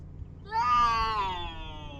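A house cat gives a single drawn-out meow lasting over a second, close and clear, rising then gently falling in pitch against a quiet room background.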